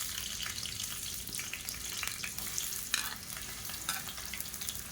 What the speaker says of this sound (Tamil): எண்ணெய் சூடானதும் மீடியம் சைஸாக 2 பெரிய வெங்காயம் நீளமாக நறுக்குனதை சேர்த்துக்கலாம்